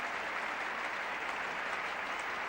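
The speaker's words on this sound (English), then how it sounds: "And this big crowd rising to the Australian captain, whose innings has really done a great job here for Australia." Applause from a large cricket crowd at a 1975 Ashes Test match, rising for Australian captain Ian Chappell as he departs after his innings; steady, dense clapping continues without a break at a moderate distance.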